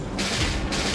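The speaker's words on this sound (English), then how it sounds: "Rocket artillery bombarded" Rocket artillery bombards a target in Civilization VI, a continuous loud roaring barrage with two dense bursts of overlapping blasts in under a second.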